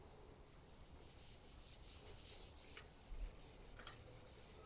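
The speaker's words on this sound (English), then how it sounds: "So now I'll put the sanding sealer." Steady close-up rubbing and hissing friction as sanding sealer is applied with a cloth or pad to a spinning camphor laurel wooden bowl on a lathe, with brief pauses near the end.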